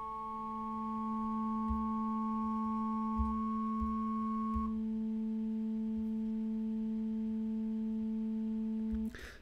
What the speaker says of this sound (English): only by changing the amplitude or the volume of each of these sine waves